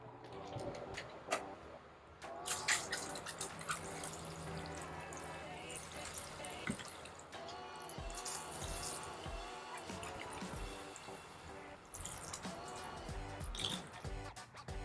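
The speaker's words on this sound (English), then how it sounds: "And now I'll just water them in." Water pours and trickles steadily over potato plants growing in garden containers, a close, continuous splashing wash with scattered drips lasting throughout.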